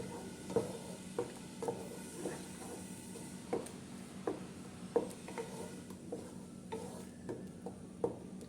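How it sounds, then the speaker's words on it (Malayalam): Ground beetroot paste stirred in ghee in a pan for halwa, with steady soft sizzling under repeated scraping strokes of a spoon, close and fairly quiet. "കുറച്ച് നെയ്യ് ഒഴിച്ചിട്ട് ഒരു ഒരു സ്പൂൺ നെയ്യ് ഒഴിച്ചിട്ട് അപ്പോൾ നമ്മൾ അരച്ചത് ചേർത്ത് കൊടുത്തു"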